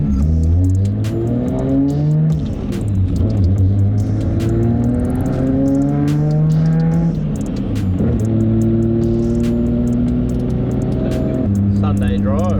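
Nissan R32 GTR engine revs and surges through rising and falling pitches for the whole stretch, loud and close, with people talking over it inside the car.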